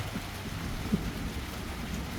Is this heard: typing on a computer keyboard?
no